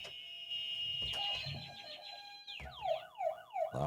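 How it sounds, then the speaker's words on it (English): Electronic game show buzzers sound in turn, first a steady tone and then warbling, siren-like sweeps that rise and fall, moderately loud and close. "Everybody's buzzer working."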